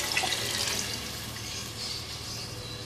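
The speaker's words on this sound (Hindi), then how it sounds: "पानी शामिल कर देंगे इसमें।" Water pours steadily into a pan of kofta pulao, a close, splashing trickle that runs unbroken for a few seconds.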